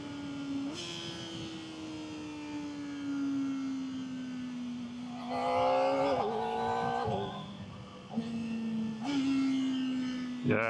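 A Kawasaki sport motorcycle engine revs steadily and changes pitch as the quick shifter snaps through gears, with several clean shift steps and rising, falling engine tones heard close and continuous.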